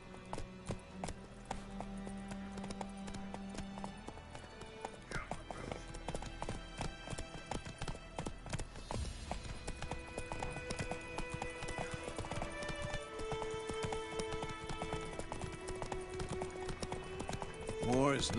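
Roach the horse's hooves clip-clopping in The Witcher, a steady rhythmic hoofbeat running through the whole passage with game music and voices talking over it.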